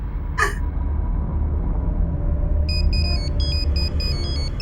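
A phone rings with a high electronic beeping tone that starts partway through and repeats in short rhythmic pulses, heard over a steady low background hum after a brief earlier chirp.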